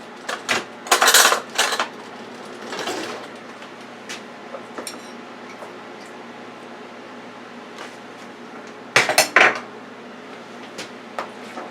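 A spoon clinks against dishes while green bell peppers are stuffed, with a few bright, clustered metallic clatters near the start and another burst later, separated by quieter stretches of handling noise.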